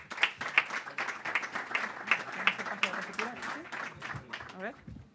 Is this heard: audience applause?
yes